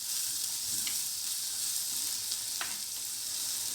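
Steady, close sizzling of onions sautéing in a frying pan with a couple of brief stirring scrapes over the hiss.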